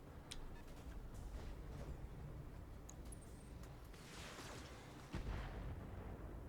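Gunfire and heavy weapon impacts in the mech combat game Battletech, aimed at an AC-20 mech: sharp distant shots and booming bursts over a low rumble, with a louder hit near the end.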